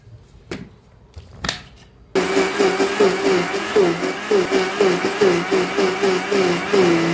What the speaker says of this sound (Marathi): आता मिक्सरला लावून घेऊया बारीक असं पेस्ट